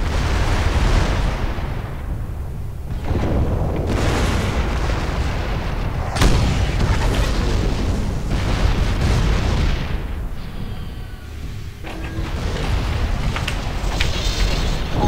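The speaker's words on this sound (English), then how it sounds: "Oh my god, I exploded." Explosions and heavy weapon fire in the mech combat game MWLL: loud, dense booms and bursts rolling almost continuously, with a few sharp blasts standing out over a rumbling low background.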